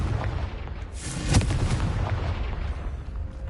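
A fire blast spell explodes in the video game Hogwarts Legacy: a single heavy boom lands partway through, rising out of a rumbling, low background and then fading.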